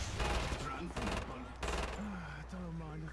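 Gunfire in the video game Killing Floor 2 comes in three loud, close bursts of rapid automatic fire over about two seconds, with someone talking alongside and after the shots.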